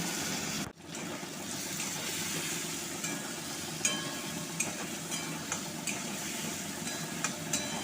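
Ginger paste and a prepared spice paste sautéing in a pan for Bengali bhoger khichuri with Gobindobhog rice, a steady close sizzle with occasional light scrapes and clicks of stirring, no voices.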